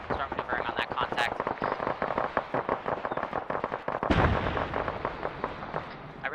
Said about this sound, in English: it's rockets hitting the town